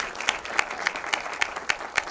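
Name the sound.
audience applause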